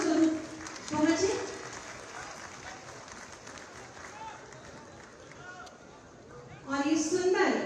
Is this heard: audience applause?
yes